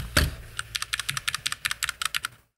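Rapid typing on an Asus ROG Falcon mechanical keyboard fitted with Cherry Red switches: about fifteen crisp, fairly loud keystrokes in a quick, even rhythm, heard close up with no talking, then a brief silence at the end.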